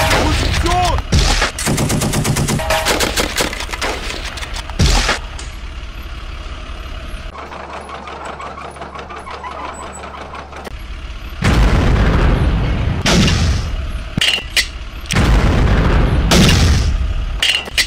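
Loud, dense gunfire and heavy booming explosion effects play in an army men stop-motion battle, with rapid machine-gun bursts, a quieter rumbling stretch, then renewed blasts and volleys.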